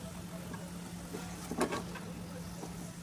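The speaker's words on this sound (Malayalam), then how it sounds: "ഇതൊന്ന് മിക്സിയിലോട്ട് ഒന്ന് ക്രഷ് ചെയ്തെടുക്കണം" A steady motor hum from a kitchen mixer grinder, with one short rattling burst of crushing spices partway through.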